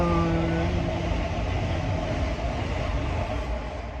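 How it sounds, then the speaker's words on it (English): Train rolling past near a cold greenhouse, a steady broadband rumble and rush with faint tonal hum, fairly loud and constant with no talk over it. "Always got trains going by here."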